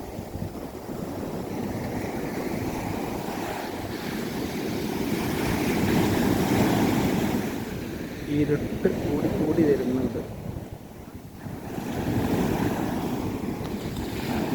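Sea waves wash onto a beach at dusk, a rolling surge with heavy wind buffeting the microphone, while a person speaks briefly over the surf.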